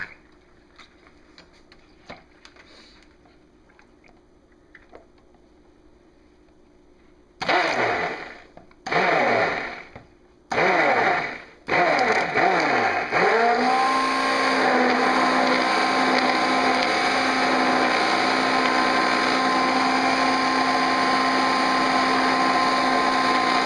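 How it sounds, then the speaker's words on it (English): A stick blender blending hot shea butter hand lotion starts in a few short bursts, then runs continuously with a steady high whir, loud and close, with no talking. "now we get the stick blender and blend it"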